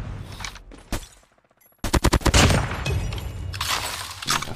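Rapid automatic fire from the Mythic Krig-6 assault rifle in Call of Duty Mobile, with a short burst, a brief lull, then a long loud string of close shots.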